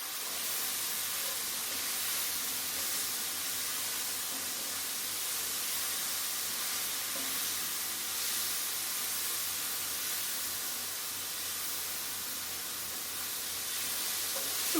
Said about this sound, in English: So we're just going to let this saute for a few minutes.